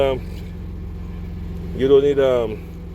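A 2003 GMC Sonoma engine idles steadily with a low, even rumble throughout, while a person talks briefly over it near the end.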